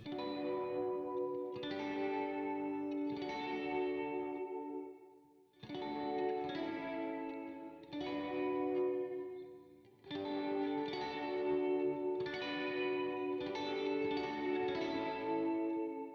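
Electric guitar strumming chords in repeated phrases with brief pauses between, carrying a light wash of reverb and no voices.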